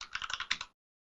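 A quick run of keystrokes on a computer keyboard, about eight close taps in under a second, then silence.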